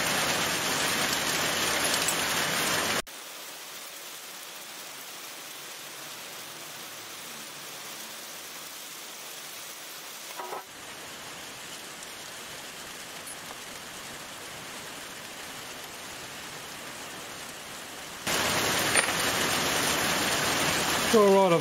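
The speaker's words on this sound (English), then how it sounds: "Well, that's just still a nice rainy day." Steady rain falls throughout, a dense broadband hiss that grows louder and closer at the start and end, with a softer, more distant wash in between.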